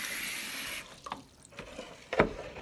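Water gushes from a tap into a sink while cleaning up after a pottery wheel session, then cuts off, leaving a few splashes and a short clatter at the end.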